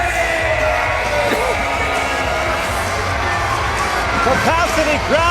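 A capacity wrestling crowd roars in a continuous loud wash of cheering and shouting, with several whoops rising above it near the end.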